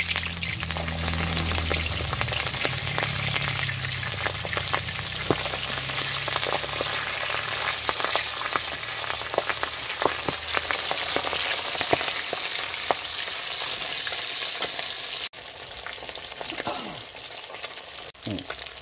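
Turned pabda fish, coated in turmeric and salt, frying in a pan of hot oil, a continuous close crackle and sizzle with scattered spatters and a few utensil knocks near the end.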